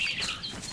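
Birds chirp in the DayZ survival video game, giving faint, brief high tweets over a soft noisy ambience.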